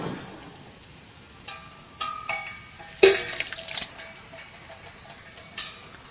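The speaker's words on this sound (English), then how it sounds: "I'm going to be mixing it very well" A spoon stirs Texas chili with onions, peppers and tomatoes in a pot, giving scattered scrapes and clinks against the metal over a faint sizzle, with one louder clatter midway.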